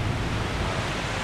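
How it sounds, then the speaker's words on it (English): The Yakima River flows steadily outdoors, a broad continuous rushing wash of water that stays loud and even throughout, with no voices. "This is the Yakima River behind me."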